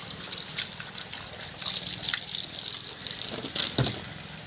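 Liquid bio-input, a cow-based bacterial culture, runs from a barrel through a pipe on a natural farm, giving close, uneven gushing and trickling with splashy bursts, and no talk.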